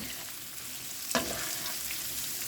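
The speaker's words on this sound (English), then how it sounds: "we're going to cook the onions until, like I said, they're softened" Onions and garlic sauté in a pot as the base for an udon chicken soup, a steady close sizzle with one brief louder crackle of stirring partway through, no voices.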